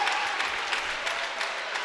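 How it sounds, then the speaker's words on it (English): Basketball arena crowd at a college game cheering and applauding for a player returning to the bench, a steady broad wash of clapping and crowd noise throughout, fairly loud and continuous. "A rise out of the Panthers crowd as he heads back to his seat."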